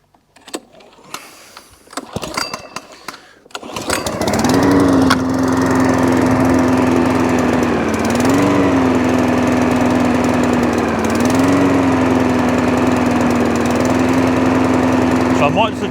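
A small engine settles into a steady idle after a fuel fix, loud and close. It follows a few seconds of sputtering and handling noises, with slight rises and dips in the idle pitch.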